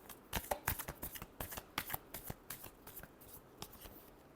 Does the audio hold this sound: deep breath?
no